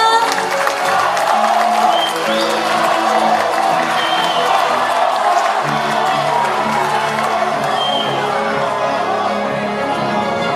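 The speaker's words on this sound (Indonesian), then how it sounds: "Berikan tepuk tangan yang luar biasa." Sustained applause and cheering from a large crowd at a political declaration event in Indonesia backing the Prabowo-Gibran 2024 presidential campaign, dense and loud throughout with scattered whoops and shouts, faint voices mixed into the din.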